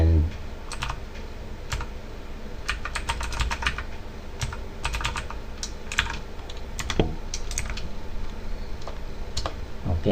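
Keys clack on a computer keyboard in a steady run of typing, close and fairly loud, with low room hum underneath and no talking.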